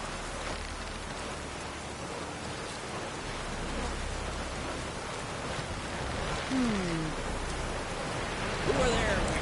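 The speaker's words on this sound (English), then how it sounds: "Rain's back again." Steady rain falls in the video game The Witcher 3, a continuous broadband hiss of drops with a couple of faint distant bird-like chirps late on.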